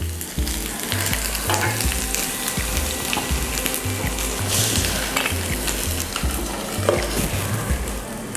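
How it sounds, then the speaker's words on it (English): Taro root roasting in a pan gives a close, continuous sizzle with rhythmic stirring and scraping throughout, and no voices. "The taro is getting roasted now."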